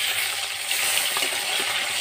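Bata fish, just flipped in a frying pan, gives a soft, even sizzle that continues without a break.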